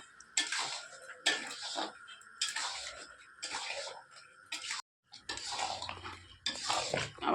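Mango pickle with sugar is stirred in a pot, giving repeated scraping, clinking strokes in an uneven rhythm, close and fairly quiet, with a brief pause midway.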